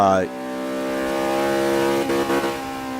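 A racing car engine in the video game Forza 5 whines at high revs, holding a loud steady pitch, with a brief sputter near the end.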